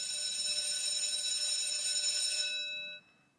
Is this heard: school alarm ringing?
yes